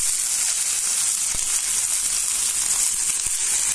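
Tomato sizzles in a frying pan with ginger-garlic paste and onion, giving a loud, constant, close hiss with two faint sharp ticks partway through.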